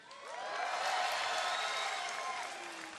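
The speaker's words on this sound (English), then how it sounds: "if any of you do like NEXGenius, the mastermind Protoss from South Korea to win, give a cheer." A live audience at a StarCraft tournament final cheers and whoops in a swelling, sustained roar that rises and fades over a few seconds, with no speech.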